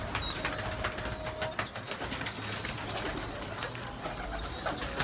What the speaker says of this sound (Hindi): ये जालों में कबूतर हैं, ये भी आपको दिखाने लगे हैं।